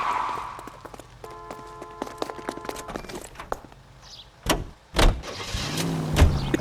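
Car engine and tyre noise in the video game L.A. Noire, a low rumble under clattering game sounds, with a couple of louder bumps or door-like thuds near the end.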